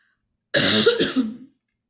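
One harsh, rough cough bursts out close by, lasting about a second, with a brief throaty rasp trailing off at the end.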